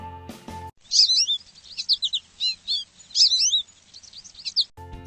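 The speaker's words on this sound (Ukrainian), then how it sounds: "Горобець свірінькає." A house sparrow chirps in quick bursts of bright, high tweets, repeated in clusters for several seconds with short pauses between.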